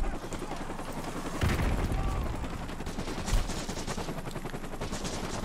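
Rapid automatic gunfire rattles at the player at a gas station in COD Modern Warfare 2 Remastered, dense continuous bursts with a few heavier cracks standing out.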